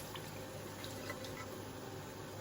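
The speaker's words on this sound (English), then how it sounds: "I'm going to add everything from the pressure cooker into the pan with the rice base." Cooked lamb and its cooking liquid are poured from a pressure cooker into a pan holding a rice base, giving a soft, continuous splashing pour with faint drips at a steady low level, without talk.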